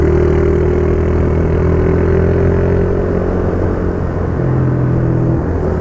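A loud, steady motorcycle engine drones with a low rumble and constant tone, no change in pitch, close by throughout.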